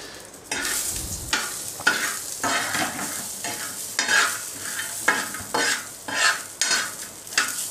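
Green chillies and peanuts frying in a pan over a low flame for Maharashtrian thecha, with a steady sizzle and repeated stirring scrapes at a close, fairly even rhythm throughout.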